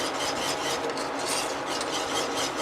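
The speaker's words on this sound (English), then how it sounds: "All right, so here we are stirring it." Dessert mixture with mastic powder being stirred in a pot, a continuous close scraping and rubbing of the spoon against the pot.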